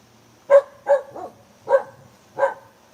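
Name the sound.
dog Bella barking to hear her echo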